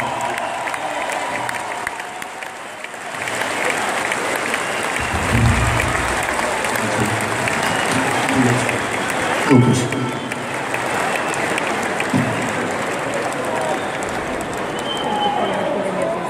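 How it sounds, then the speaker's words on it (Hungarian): Concert crowd at a large arena applauding for a birthday, a dense steady roar of clapping and cheering that runs the whole stretch at full level, with a few louder swells. "egy nagy tapsot Ildikónak."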